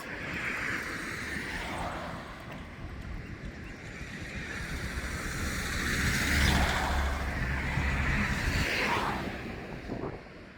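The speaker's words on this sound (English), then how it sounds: "Too many cars." Outdoor traffic with cars passing one after another, each swelling to a whooshing roar and fading away, over a constant low rumble and no speech.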